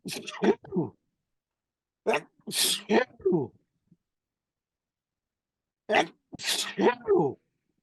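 Several abrupt, loud bursts of breath and voice in three quick clusters separated by silence, consistent with a person sneezing at close range.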